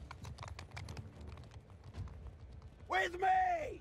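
Horse hooves clip-clop in a quick rhythm during mounted riding in Bannerlord with a Game of Thrones mod, fairly faint under background battle noise, then a voice speaks over the end.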